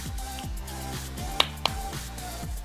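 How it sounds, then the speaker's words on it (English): Two quick sharp hand claps land close together over steady rhythmic background music during a beginner mixed-format dance class. "I just add a little double clap."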